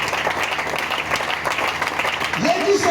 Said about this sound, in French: Acclamez d'abord le Seigneur.